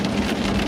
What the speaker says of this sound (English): we're on and off again with sleet and hail